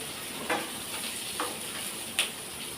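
Tamarind and dried red chillies sizzle steadily in a pan, a continuous crackling hiss with a few sharper pops and stirring scrapes standing out, close and alone without talk.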